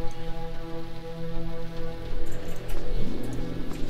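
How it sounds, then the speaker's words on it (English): Rain falls in the sci-fi adventure video game Primordia, a soft crackling patter of raindrops running continuously under a steady, tonal ambient music drone, with no voices. "The crackling noise you hear is probably the rain sound effects"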